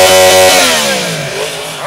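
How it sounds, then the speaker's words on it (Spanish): A Yamaha MT-10 motorcycle engine is revved hard up close, a loud raspy snarl that peaks and then falls away over about two seconds. "¿Cómo suena una MT-10?"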